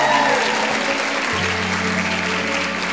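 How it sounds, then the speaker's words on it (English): Wedding guests applaud the newlyweds at a reception, a full continuous burst of clapping that stays loud and steady while a low hum runs underneath. "Big applause here for them."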